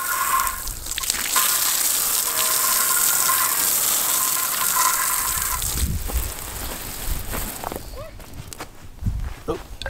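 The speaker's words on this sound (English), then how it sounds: "So we're going to give it a real quick rinse." Steady broadband hiss of water running from a garden hose during a quick rinse outdoors, then breaking into splashes and scuffing movement toward the end, with voices talking in the background.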